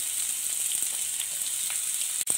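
Chopped onion sizzles steadily in hot oil in a pan for a saucy Chinese-style chicken dish, a loud continuous frying hiss with a brief clatter near the end.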